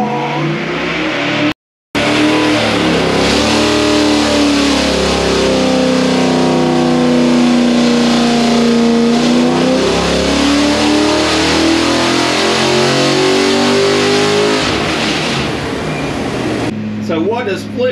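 A 408 cubic inch small block Chevy engine revs hard on a dyno, a loud sustained wide-open roar with a rising and falling pitch, brief cut near the start, tapering off at the end.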